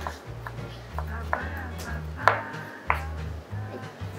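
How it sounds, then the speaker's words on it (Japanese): A knife chops a cabbage core into coarse pieces on a cutting board in a home kitchen. Several steady, close thuds and sharp taps are mixed with background noise. "葉は千切りに、芯は粗めのみじん切りにします"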